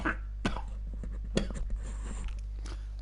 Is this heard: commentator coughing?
yes